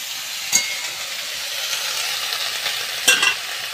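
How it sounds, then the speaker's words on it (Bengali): Bottle gourd leaves frying with poppy seeds in a wok and being stirred, a steady soft sizzle with two sharp spatula scrapes against the pan, one early and one near the end. "একটু নাড়াচাড়া করেই জল ঢেলে দেবো"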